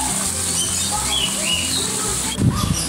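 A flock of small parrots at the Marineland park in Mallorca chirps in thin, scattered tweets over a steady, noisy background, with a brief thump near the end.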